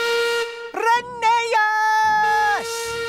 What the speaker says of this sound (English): So Peter Sam whistled as long and as loudly as he could.